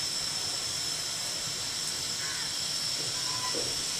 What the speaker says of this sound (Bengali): তেল গরম হয়ে গেছে, আমি পাঁচ ফোড়ন দিয়ে দেবো